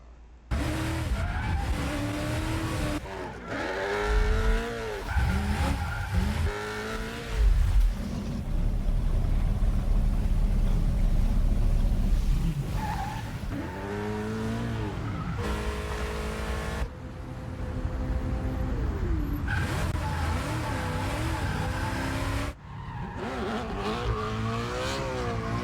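Cars drift through corners in the Forza racing game with all-wheel drive, tires squealing in long, wavering bursts over roaring, revving engines, loud and continuous with shifting pitch.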